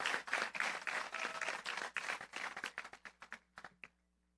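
Commencement audience at a skill center giving a thunderous round of applause for students and staff, dense clapping that thins into scattered final claps and fades out.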